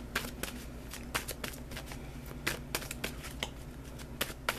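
Tarot cards are shuffled up close in quick, crisp riffling bursts that repeat steadily, with no voices over them.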